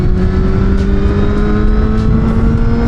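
A motorcycle accelerates hard to pass a car, its engine note rising steadily in pitch, loud and close from onboard with a steady rush of wind noise throughout and no talk.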